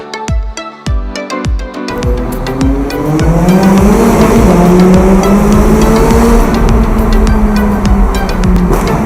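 Two McLaren 570S sports cars start up and pull away, loud engine revs rising and falling in long sweeping tones with a sharp burst at the start and a sustained roar close by.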